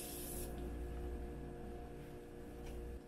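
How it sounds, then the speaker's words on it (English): Cosmetic face spray bottle releasing a fine mist, a short soft hiss at the start and a faint second puff near the end, over quiet indoor room noise. "So I'm going to spray it on my face even though I'm not going anywhere today."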